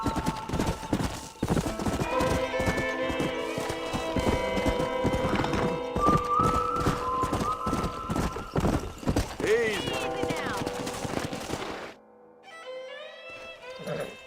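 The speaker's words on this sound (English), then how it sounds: "We got some fine horses." Horses in Red Dead Redemption clip-clop steadily at a gallop with a few whinnies and neighs, under game music and shouting voices, ending in a quieter stretch near the close.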